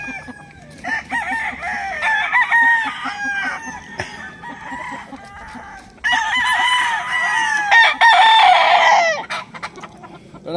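Gamefowl roosters at a game farm in Tanauan City, Batangas crow repeatedly and loudly, with overlapping calls from several birds, two long bouts, and clucking and farm bustle between them.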